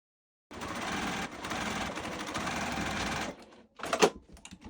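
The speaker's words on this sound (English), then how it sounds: "Sew a running stitch, back tacking at the start and finish." A sewing machine runs a steady, close mechanical whir while stitching the waist seam of jeans, stopping briefly and then finishing with a short burst of stitching at the end.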